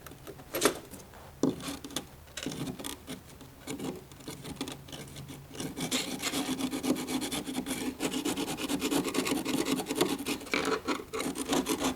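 A chisel scrapes damaged tile off a Schluter foam shower pan in short, gentle rasping strokes. The scratching is close and grows denser and more continuous in the second half.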